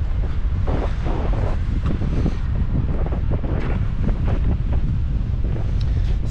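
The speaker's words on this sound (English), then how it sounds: "damn, that's so windy." Strong wind roars across the microphone on a beach at Caleta de Fuste, Fuerteventura, a loud, constant buffeting rumble with gusty surges and no voices.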